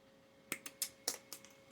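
Sharp clicks and snips from trimming a small piece for a scale model tower, about seven quick faint cuts spaced unevenly over under two seconds, close and quiet.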